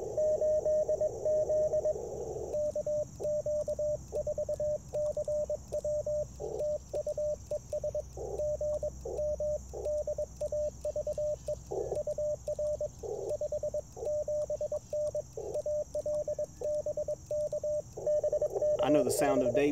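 Morse code CW radio sidetone, a steady pitched tone keyed in rapid dots and dashes over a constant hiss and low hum, with a brief burst of other noise near the end; callsign-style keying, likely a morning net.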